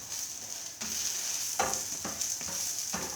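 Corn fritters sizzle in oil in a greased pan, a steady bright hiss broken by several sharp crackles and stirring clicks, close and fairly loud with no one speaking.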